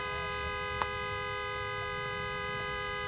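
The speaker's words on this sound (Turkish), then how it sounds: "Korna takıldı." A stuck car horn blares in one steady, unbroken tone, droning on without pause, with a brief click partway through.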